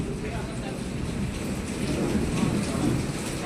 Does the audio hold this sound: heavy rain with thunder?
yes